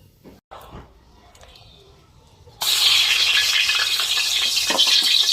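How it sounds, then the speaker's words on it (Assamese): Fish rubbed with salt and turmeric goes into a hot pan: after a few quiet seconds of faint kitchen clatter, a loud, dense sizzle bursts in suddenly and holds steady. "মাছ ফ্ৰাই কৰি আছোঁ"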